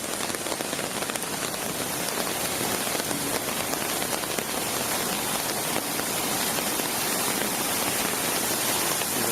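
Heavy rain pours down in a storm at Turkey Cock Run, a dense, even hiss of drops beating on surfaces, loud and unbroken from start to finish with no voices.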